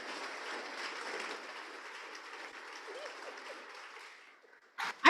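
An audience applauds at the close of an author talk, a steady wash of clapping from many hands lasting about four seconds before it fades out, with a short burst of noise at the end.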